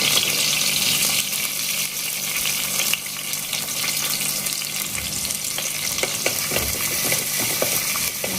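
Garlic and chillies frying in hot oil, a dense, steady sizzle with scattered crackles and spits, close and loud throughout with no speech.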